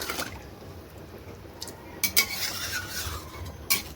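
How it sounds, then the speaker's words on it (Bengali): A spoon stirs meat curry in a cooking pot after water has been added, giving scattered metallic scrapes and sharp clinks against the pot over a quiet background, with no talking. "তো চলো আবার ঘেটে দিই"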